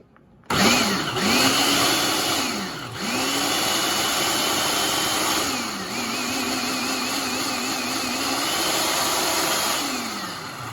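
Food processor blending black beans into a mixture for burger patties, a loud continuous motor whir with pitch that dips and rises as the load shifts, running steadily throughout.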